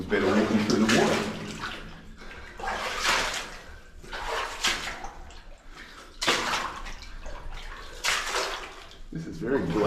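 Water sloshes and splashes in heavy, rhythmic surges as steps wade knee-deep through mud and a stream inside an old goldmine tunnel in Karangahake Gorge, New Zealand, close by.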